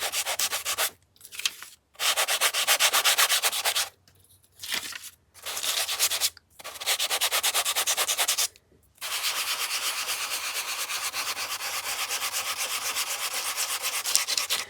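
Sandpaper rubbing across old magazine pages, a coarse and a finer grit, in steady close scraping strokes broken by a few short pauses, then a long continuous stretch of sanding.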